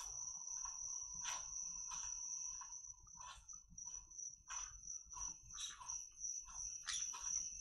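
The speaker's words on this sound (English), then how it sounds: "You like the crickets in the game?" Crickets chirp steadily in the video game Escape the Pacific, a continuous high trill with bursts of louder chirping layered over it, at a moderate level and with no talking.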